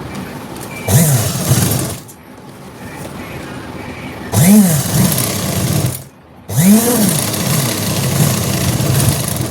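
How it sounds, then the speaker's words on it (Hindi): Close, loud whirring bursts from a sewing machine stitching a pant seam, three runs of a few seconds each separated by brief pauses. "फिर इसको खोल के सिलाई मारेंगे।"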